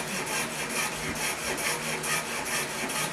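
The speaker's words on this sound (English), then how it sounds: "just use some sandpaper and just sand off the excess" Sandpaper rubbing steadily against a guitar nut or saddle, a close, continuous dry scratching with a quick back-and-forth rhythm and no voices.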